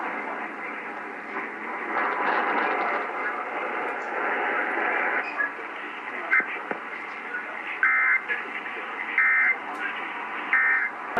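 Emergency Alert System data bursts sound during a monthly test on a WCBS HD2 radio relay: three short, harsh, buzzy tone bursts in steady succession over a hissy, noisy broadcast signal.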